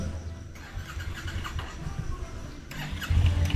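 A Kawasaki Ninja motorcycle engine idles and rumbles nearby, then revs up louder toward the end, with people talking over it.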